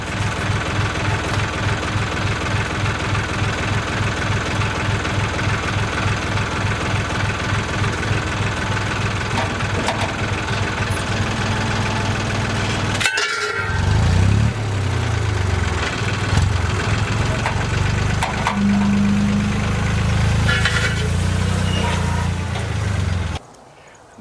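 A tractor engine idles steadily in the open before a garden disking job, its low, even rumble with rhythmic knocking running for most of the stretch, then shifting to a rougher, varying chug before cutting off abruptly at the end.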